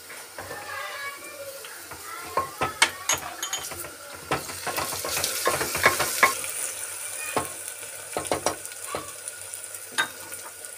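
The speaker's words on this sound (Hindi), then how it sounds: "अब हो गए हमारे प्याज लाल अब इसमें डालेंगे अदरक का और लहसुन का पेस्ट" Ginger-garlic paste frying with browned onions in a pan, with irregular clinks and scrapes of stirring over a soft sizzle, moderately near.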